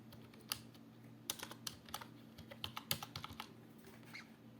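Quiet typing on a computer keyboard indoors, a series of distinct key clicks in short irregular bursts with small pauses, heard alone without talk.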